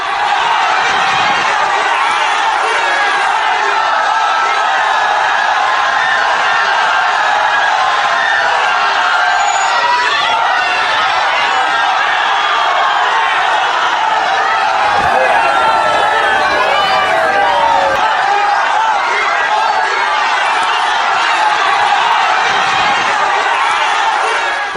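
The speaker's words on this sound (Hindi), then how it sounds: "प्रधानमंत्री को देखने के लिए हजारों की भीड़ थी सड़कों पर।" A dense street crowd of thousands gathers for Prime Minister Narendra Modi's roadshow in Barrackpore, a loud, continuous roar of chatter, shouts and cheering that never lets up.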